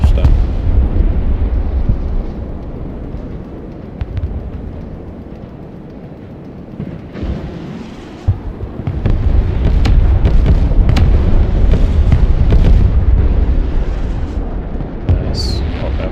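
Mortar artillery explosions in the video game Broken Arrow, with loud deep rumbling blasts and a heavy roaring swell in the second half, punctuated by sharp cracks.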